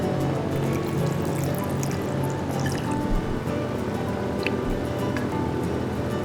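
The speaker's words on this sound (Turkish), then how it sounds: "İşte hidrofor çalışıyor. Bakın kum tanelerini nasıl da süzdürdü." A toy hydrophore pump runs steadily, pushing water through a sand filter in a children's toy setup, producing a constant trickling, dripping wash of liquid with no speech.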